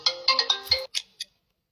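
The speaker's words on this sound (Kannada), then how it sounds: "ಅದು ಫೋನ್ ಕಾಲ್ ಬಂತು, ಹಾಗಾಗಿ ಒಂಚೂರು ಲೈವ್ ಜಂಪ್ ಆಯಿತು" Electronic ringtone of an incoming phone call, a bright chiming melody of several quick notes followed by two short separate beeps, heard alone and fairly close.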